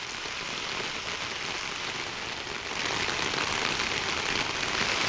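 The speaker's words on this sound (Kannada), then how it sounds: "ಒಂದ್ ಕಡೆ ಮಳೆ ಸುರಿತಾ ಇದೆ." Heavy rain pours down in Bengaluru as a dense, steady hiss that grows louder and fuller about halfway through, with no voices.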